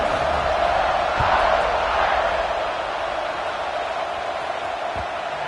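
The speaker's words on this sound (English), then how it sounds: "this crowd now ready to get behind them" A stadium crowd in the College Football 26 video game roars as a steady, loud wash of noise ahead of a kickoff, swelling slightly before easing.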